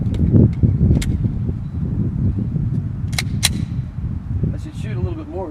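Pistol shots on a shooting course, a few sharp cracks spaced irregularly amid steady outdoor background noise, with people talking nearby.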